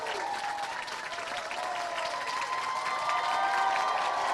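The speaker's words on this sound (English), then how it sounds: "Give yourself a round of applause again" A studio audience of fans at Geico headquarters in Fredericksburg claps in sustained, dense applause that swells slightly toward the end, with a few scattered cheers mixed in.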